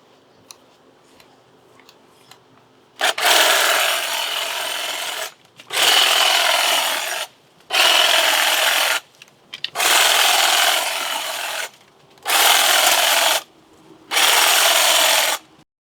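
Dogwood and ninebark bushes being sheared with a hedge clipper: six loud, sustained bursts of rapid cutting, each a couple of seconds long, separated by short pauses, after a quiet start with no talking.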